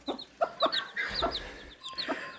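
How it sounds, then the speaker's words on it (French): Chickens and young chicks clucking and peeping in a coop, several short calls scattered close by with a few sharper chirps between them; no talk. "viens voir mon petit poussin"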